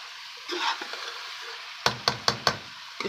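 Potato masala with onion and tomato being stirred in a pan: a soft scraping swirl early on, then four sharp spoon knocks against the pan in quick succession, with a faint sizzle underneath.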